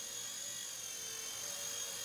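A Blade Nano S2 RC helicopter flying indoors at home, a steady high-pitched whine of small rotors and motor, constant and fairly close, with no talk.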